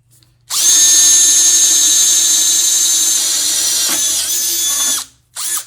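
A power drill whines loudly and steadily for several seconds as it bores a hole during work on a VEVOR 6-inch bench vise, pauses briefly, then revs again in a short burst.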